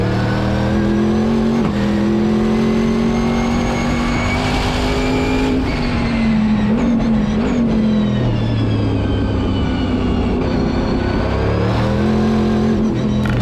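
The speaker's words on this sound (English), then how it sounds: "the whine is so intense as it's climbing in RPM" A C6 Corvette time attack car with a straight-cut gear sequential transmission wails with intense gear whine, a bright steady tone climbing and dropping with RPM through several shifts over a loud engine drone, heard from inside the car with no talk.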